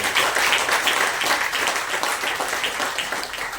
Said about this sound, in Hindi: और फिर से ताली बजाइए।